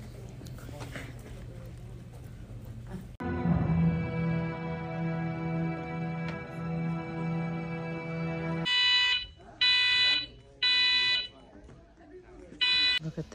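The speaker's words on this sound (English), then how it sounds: "this alarm just starts going off." A fire alarm blares inside a movie theater in the middle of a film screening, beginning abruptly as a loud, sustained tonal tone and later breaking into repeated on-off beeps, with people talking underneath.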